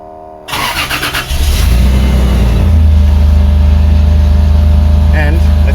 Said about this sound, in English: Let's start it.